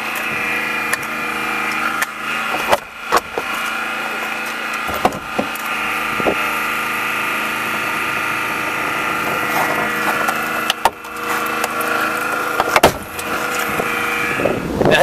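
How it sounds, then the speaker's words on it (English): RESQTEC G6 hydraulic rescue cutter biting through a car body, with a steady hydraulic pump drone, sharp metal cracks and snaps at intervals, loud and close. "Have you noticed how the G blades cut millimeter by millimeter?"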